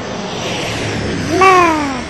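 An airplane in the shooter Call of Duty Black Ops roars steadily in the background, then a short rising whine briefly peaks and tails off near the end, loud and with no talking.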